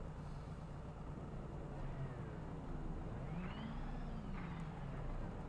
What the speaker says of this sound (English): Now they're all revving their engines.